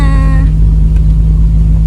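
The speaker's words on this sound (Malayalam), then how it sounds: "വണ്ടി കയറണില്ല കേട്ടോ വണ്ടി കയറണില്ല" Car engine revving hard and labouring up a steep hillside track near Kattappana, a loud close continuous growl with a whining harmonic tone fading after the first half second.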